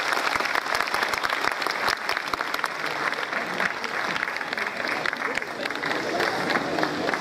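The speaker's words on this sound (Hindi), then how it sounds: "जोरदार तालियों से हम इनका स्वागत करें।" An audience at a formal function gives a hearty round of applause to welcome a guest, dense continuous clapping over the whole stretch, moderately distant and even in level.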